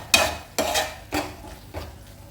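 Tomatoes with salt are stirred in a cooking pan, four close, regular scraping strokes of a spoon against the metal, each sharp at the start and then fading under a light sizzle.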